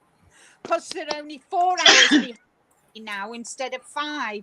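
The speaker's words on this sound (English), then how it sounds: "I'm sorry I sneezed" A single sharp sneeze bursts out between stretches of close conversational speech during a live crochet-and-coffee chat, with talk continuing on both sides of it.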